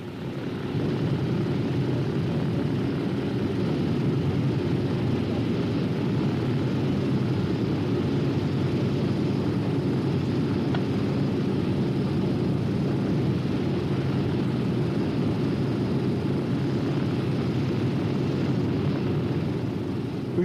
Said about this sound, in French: Enfin, les moteurs des lourds bombardiers démarrent.